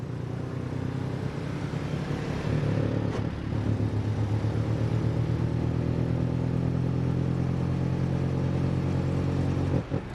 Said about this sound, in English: Woo, she actually revs high.